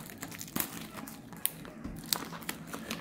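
Plastic wrapper on a factory-sealed 2014 Future Force trading card box crinkles and tears in short, close snaps and rustles, with several sharp rips spread across a few seconds and no talking.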